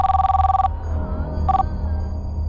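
An electronic phone ring trills for under a second, pauses, then gives a short second burst over a steady low hum.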